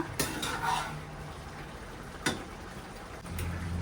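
Soya chunks for soya manchurian fry in a pan while being stirred, giving a steady low sizzle broken by a few sharp scrapes and clinks of the spoon against the pan, with no voices.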